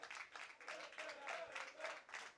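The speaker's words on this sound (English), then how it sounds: "With a clap going on." A crowd claps in rhythm at the Island Games 2023 men's football final, a steady run of distant, moderately faint claps with a commentator talking over it.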